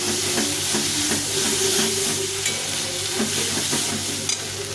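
Small red potatoes sautéed in fried spice masala, a continuous close sizzle and hiss of frying with occasional scraping stirs through the pan, steady and fairly loud throughout.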